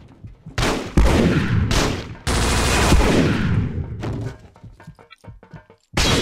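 Grenade explosions and bursts of gunfire echo in a closed underground metal tunnel during a co-op fight in the Vietnam War shooter Vietcong, loud, close blasts and rapid shots with brief pauses between.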